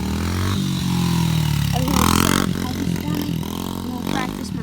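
A small motorized backyard dirt bike runs close by, its engine droning steadily and then revving higher in a burst, with rattles and clatter. Someone speaks over it.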